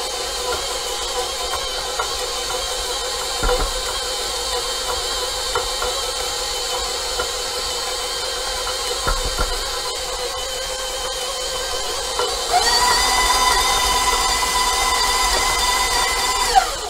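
A stand mixer creams butter and sugar for vanilla bean sugar cookies, a steady motor whir with faint paddle rattles and knocks, growing louder and brighter near the end, with no talking.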